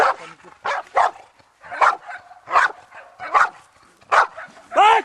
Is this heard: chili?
no